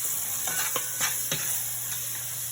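Garlic-stuffed pot roast sizzles steadily in a hot pan, a constant hiss broken by a few stirring scrapes and bumps, close and even, with no speech.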